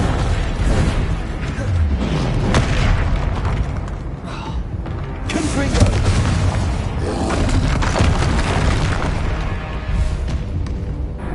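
A fire spell cast in the Hogwarts Legacy video game gives loud, booming bursts with a rushing roar. The blasts repeat over dense, continuous game sound.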